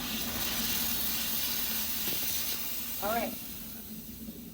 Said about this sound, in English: The room steam is gonna be loud.